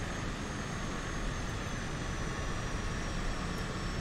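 A steady propeller aircraft engine drones on a runway in a flight simulator, a loud, even rumble with a faint high whine on top, unbroken for the whole stretch with no talk.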